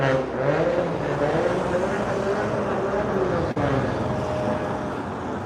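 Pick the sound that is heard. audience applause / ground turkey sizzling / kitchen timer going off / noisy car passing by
noisy car passing by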